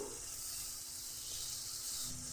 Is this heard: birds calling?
no